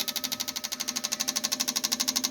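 A fuel injector test stand runs with its injectors after ultrasonic cleaning, giving a steady, rapid rhythmic pulsing with a bright hissing spray and a fast regular beat throughout.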